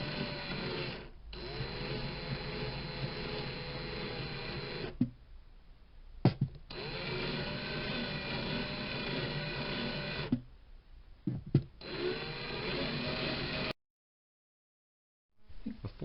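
Small high-speed rotary tool chamfering the plastic bridge of a Gibson LG-0 guitar, a thin whining buzz running in long bursts with brief pauses and a short silent gap near the end.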